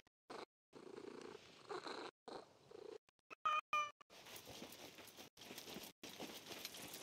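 A cat in the game Assassin's Creed Mirage purrs in a soft, steady rumble broken by short gaps, with a brief meow in the middle, faint and close throughout.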